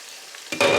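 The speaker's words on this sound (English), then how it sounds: "Onion is now sauteing in that turkey fat" Onion sautéing in turkey fat in a pan, quiet at first, then a sudden loud, steady sizzle that jumps in level near the end.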